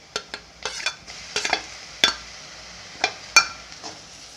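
Grated ginger fries in a pan for chicken fried rice, heard as a series of sharp scraping stirs and clinks of a utensil against the pan over a faint sizzle, close and irregularly spaced.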